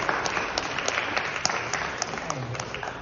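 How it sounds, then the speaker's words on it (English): A modest audience at a student performance gives a short, steady wash of applause with a few distinct claps standing out, heard fairly close and without a break. "How about a round of applause for Dave?"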